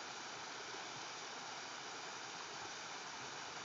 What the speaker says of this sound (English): I just love this waterfall